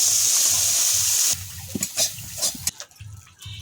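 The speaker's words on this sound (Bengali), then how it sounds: "কড়া গরম হয়ে গেছে, আমি কাঁকড়াটা ভেজে নেব। একটু লাল লাল করে ভেজে নেব।" Crab fries in hot oil in a wok, a steady bright sizzle at first, then quieter crackling with scrapes and stirring clatter as pieces are turned.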